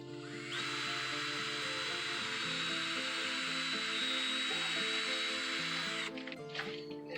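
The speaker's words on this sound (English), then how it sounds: "I'm going to pre-drill this hole" A power drill bores a pilot hole into pallet wood on the ground, a close, steady high whine running for about six seconds before it stops, followed by faint handling noises.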